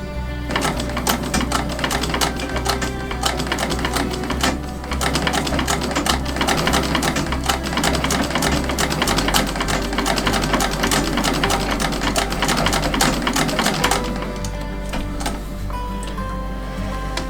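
A restored 1906 Singer sewing machine stitches wool, running with a rapid, steady mechanical clatter and low hum at close range, pausing briefly and changing pace near the end, with no talking.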